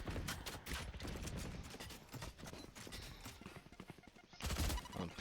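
Rapid gunfire in Valorant shooting through a wall, dense bursts of quick cracking shots in steady succession, with heavier booming hits near the end under faint commentary.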